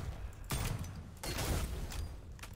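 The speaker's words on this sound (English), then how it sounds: "I will shoot all around him" Hangfire gun firing in the video game Witchfire, with two heavy broadband blasts, each trailing into a sustained roar, plus a softer burst near the end, all fairly loud and close.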